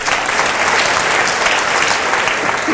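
Steady, dense applause from an audience at a talk on EMF radiation and health, loud and continuous throughout with no pauses.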